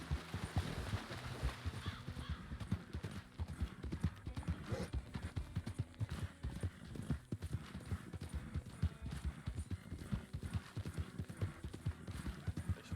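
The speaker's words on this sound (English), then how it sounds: "There's horses running around me somewhere." Steady clip-clop of video game horse hooves at a trotting pace, fairly close, continuous throughout with a brief whinny and a faint background rumble.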